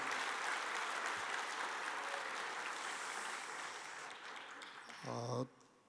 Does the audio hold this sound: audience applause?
yes